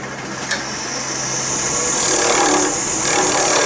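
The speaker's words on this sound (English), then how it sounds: "I'm going to use the bottom corner of my skew, which is sharp, and use that in there to cut away a bit of material" A sharp skew chisel's bottom corner cuts a light dragging bevel into wood spinning on a lathe, making a steady close rasping scrape that holds at even loudness throughout with a faint tonal whine underneath.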